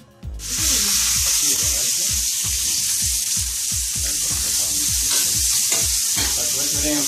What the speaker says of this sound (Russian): добавляем немножко масло, начинаем жарить